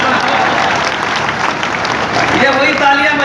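Applause from an audience at a kavi sammelan poetry gathering during the Chakradhar Samaroh festival, a dense steady clapping throughout with voices mixed in.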